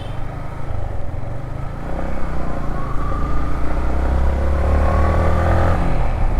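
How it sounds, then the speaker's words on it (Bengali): A Yamaha MT-15 motorcycle engine, freshly serviced, runs steadily on a test drive, its loud rumble building and rising in pitch as the rider accelerates, with no talking over it. "সার্ভিসিং হয়ে গেছে, এখন টেস্ট ড্রাইভ দিতেছি, তো এখন হয়ে গেছে স্মুথ।"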